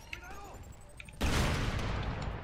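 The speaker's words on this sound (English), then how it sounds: "Oh, these aren't bombs anymore. These are just normal grenades." Grenade blast in the video game Crackdown bursts in loud and sudden after a moment of quieter sound, then rolls on as a sustained roaring rumble, with a voice briefly heard beforehand.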